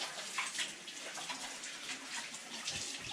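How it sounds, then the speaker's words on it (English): Tap water runs steadily as hands are washed under it, a soft, even splashing hiss throughout. "now I'm going to wash my hands."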